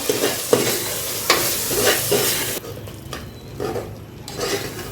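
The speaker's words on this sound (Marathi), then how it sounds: "लाल तिखट, लाल मिरची, थोडीशी हळद, धने पावडर, थोडासा गरम मसाला परतून घेऊया।" Red chilli powder, turmeric, coriander powder and garam masala sizzle as they are sautéed in a pan for pav bhaji, with scraping stir strokes over a steady frying hiss that quietens partway through.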